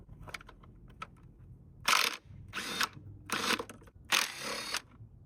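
A power tool tightens a fastener on a car engine during a misfire repair, firing in four short ratcheting bursts separated by brief pauses, fairly close.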